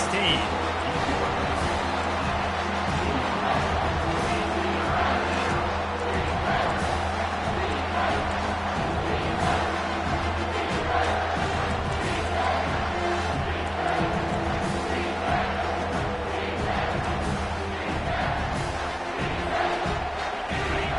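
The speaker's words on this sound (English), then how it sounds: "this crowd is bringing down the house" Steady roar of a college football stadium crowd during a USC versus Miami game in College Football 25, a loud continuous wall of noise running the whole time beneath a commentator talking.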